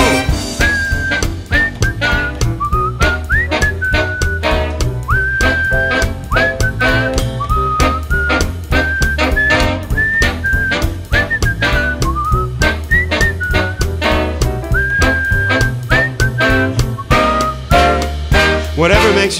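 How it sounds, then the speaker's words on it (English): A whistled melody carries on over a loud band with driving drums, the tune wavering between sustained notes for many bars, during a performance of a song. "Whistle solo."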